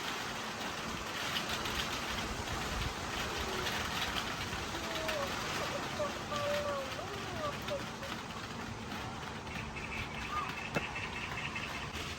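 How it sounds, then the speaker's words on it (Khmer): Soft, steady rain hisses in the background for the whole stretch, faint and even, with a few brief bird-like chirps partway through. "សំឡេងទឹកភ្លៀងចឹង"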